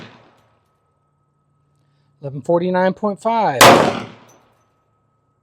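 A Tanfoglio pistol fires a Federal Premium 10mm 200-grain solid core round: one sharp, loud shot cracks out right at the end of a spoken remark, followed by a short decaying tail.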